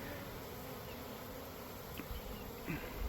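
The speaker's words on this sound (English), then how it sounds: "Bees coming back." Steady, dense buzzing of many honey bees close by at an insulated hive, a continuous drone with no voices.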